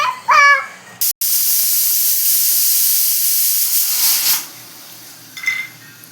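A pressure cooker on a gas stove holding rice lets out its whistle, a loud rushing hiss of steam lasting a few seconds after a short chirp, then tapering off with a faint later puff.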